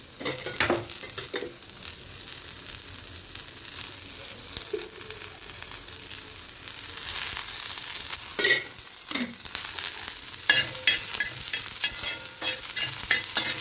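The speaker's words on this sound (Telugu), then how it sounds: "ఆనియన్స్, పచ్చిమిర్చి, వెల్లుల్లి కూడా లైట్గా వేయించుకుంటున్నాను" Onions, green chillies and garlic frying lightly in oil in a pan, a steady soft sizzle with repeated scraping stirs from a spatula, close and alone without talk.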